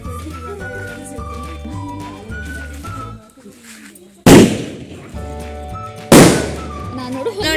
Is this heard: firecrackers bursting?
yes